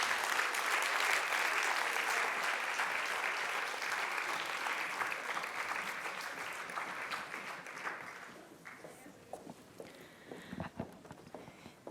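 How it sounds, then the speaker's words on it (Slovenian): Audience applause at a youth entrepreneurship award ceremony, sustained broadband clapping from a crowd for about eight seconds, then thinning into scattered claps and footsteps in a quieter hall. "Vsi skupaj si zaslužimo še en velik aplavz"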